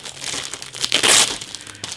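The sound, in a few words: crinkling plastic bags holding model kit sprues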